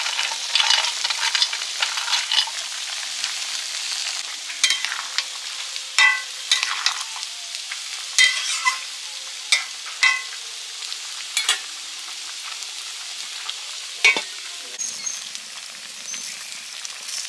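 Fried bori, eggplant and bitter gourd tossed in a pan for shukto, a constant bright sizzle punctuated by regular scraping stirs of a spatula, close and fairly loud, no one speaking.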